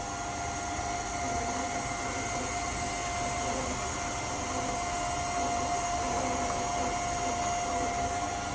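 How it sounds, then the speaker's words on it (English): Electric mixer beating tea cake batter, a steady faint whirring hum with a constant pitch throughout, no talking. "While that's mixing, we're going to turn our mixer down."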